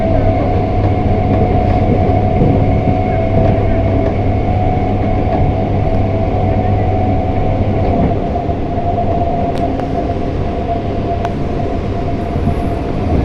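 A train running steadily, heard from inside a carriage, with a loud continuous rumble and rattle throughout and faint voices in the background.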